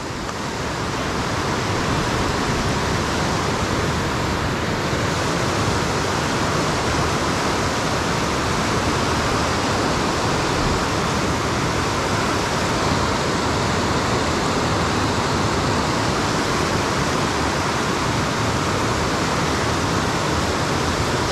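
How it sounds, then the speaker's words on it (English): Rushing whitewater of Dartmouth Rapids on the Youghiogheny River at Ohiopyle in February, a loud, constant broadband roar with no breaks, heard alone. "Dartmouth Rapids, Yaquegani River,"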